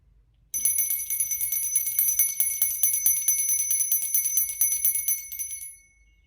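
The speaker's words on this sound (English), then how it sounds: "I'm going to ring a bell." A bright metallic bell rings continuously for about five seconds, rapid and shimmering, then fades out into quiet.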